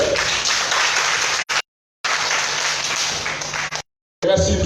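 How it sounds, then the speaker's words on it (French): A conference audience claps in two sustained bursts separated by short silences, dense and fairly loud, with a voice returning at the end. "Encore, applaudissez s'il vous plaît."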